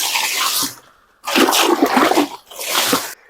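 Water poured by hand at the base and between the stems of red banana plants, heard as two splashing, gushing bursts close by with a short pause between them and a softer trailing pour at the end.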